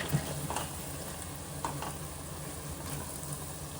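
Onions frying in a pan until reddish and soft, a quiet steady sizzle with a few faint stirring scrapes, no talk.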